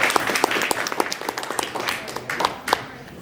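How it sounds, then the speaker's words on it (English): A gathering's audience breaks into applause, individual claps distinct at first and then thickening before gradually thinning out toward the end. "One huge round of applause."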